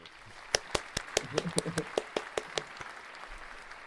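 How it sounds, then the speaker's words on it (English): A small group claps sparsely, about a dozen distinct sharp claps at a loose, uneven rhythm, with a few voices underneath, before the clapping thins out and stops. "Wait, applause."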